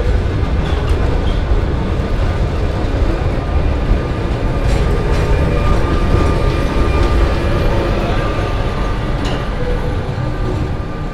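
A tram in Mallorca near Soller runs past with a loud continuous rumble and rail noise, occasional clicks, steady throughout with no talking.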